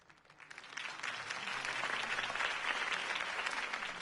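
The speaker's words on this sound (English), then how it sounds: "If only Mr. Wayne, my campaign's largest backer, could have heard that applause" Crowd applause in the Batman: The Telltale Series video game, rising from a light start into steady, dense clapping that holds loud and continuous to the end, with no voices over it.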